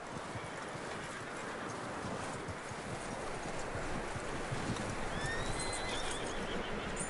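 Horse hooves clip-clop steadily amid ambient outdoor noise in the video game Red Dead Redemption 2, followed near the end by a brief whinny from the horse.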